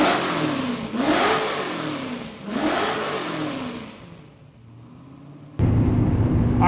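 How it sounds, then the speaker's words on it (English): Engine of a 1975 car with air conditioning, which has a hot start problem, revs and shifts while cruising at about 55 mph, two rising and falling pulls followed by a quieter drone, then a sudden louder steady hum. "we're cruising along about 55 miles an hour"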